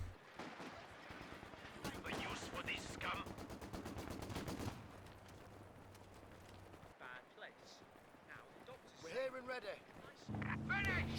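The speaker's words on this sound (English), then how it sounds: "The Raketten and a 120mm mortar coming in." Raketenwerfer rockets and 120mm mortar fire in Company of Heroes 2: a rapid volley of sharp shots is followed by booming impacts and scattered explosions, with a commentator talking over the battle.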